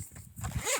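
A day pack zipper pulled open in one quick, close rasping run lasting under a second, with nobody talking.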